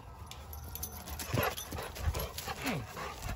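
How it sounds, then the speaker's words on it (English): Dogs yelp and bark excitedly while chasing miniature horses, amid scuffling and light hoof clatter, with background noise throughout. "They're going after these miniature horses here."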